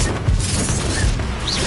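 A Confringo blast spell going off in the Hogwarts Legacy video game, a dense booming crash with a rumbling low end that stays loud through the short burst, with a brief whooshing swell near the end.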